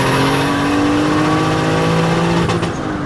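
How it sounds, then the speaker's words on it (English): A turbocharged BMW E36 with an M50B25 inline-six, boosted to about 400 hp, screams at full throttle in third gear, a loud sustained engine note near the rev limiter that briefly stutters and cuts out before dropping back. "Here's the engine cutoff."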